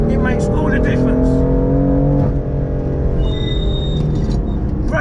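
BMW F82 M4 track car driving hard through a corner, a loud sustained engine drone with steady harmonics that dips briefly mid-pass then holds, with faint higher whine above.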